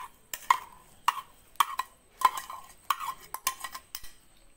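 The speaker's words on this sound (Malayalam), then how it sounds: "ഇനി ഇതൊന്ന് മിക്സ് ചെയ്തെടുക്കാം ഇനി ഇതിലേക്ക് നമ്മൾ നേരത്തെ ആ ചെറിയുള്ളി ചേർത്ത് കൊടുക്കുകയാണ്" Shallots being stirred into a dish in a pan, with a spoon scraping and clinking against the pan in a quick irregular series of close, crisp strokes.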